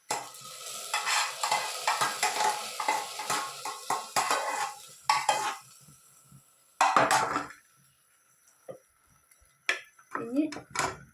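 Roasted coconut being stirred into atti payasam in a pan, with close scraping and clinking of a spoon against the metal pan in irregular bursts, broken by short pauses and joined by people talking nearby.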